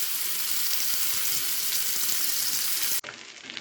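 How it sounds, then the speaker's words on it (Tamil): Lamb brain frying in groundnut oil on a tawa, a steady close sizzle for about three seconds, then a brief clatter and a softer, quieter sizzle as the pan is disturbed. "இப்போது மூளை எடுத்து அதில் வச்சு அப்படியே ஃப்ரை பண்ணி எடுத்துக்கலாம்."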